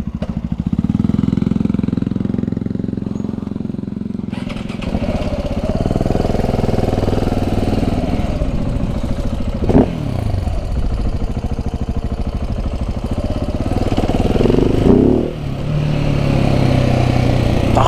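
A Yamaha YZF 125 motorcycle engine runs close by, idling unevenly and revving a few times, with sharp sputtering bursts breaking the rough, steady drone as it runs jerkily.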